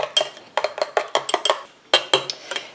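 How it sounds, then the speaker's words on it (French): A utensil clinks and scrapes against a container while stirring an after-sun witch hazel and lavender lotion, a rapid series of close, bright taps in quick rhythmic bursts with a brief pause midway. "Et je mélange."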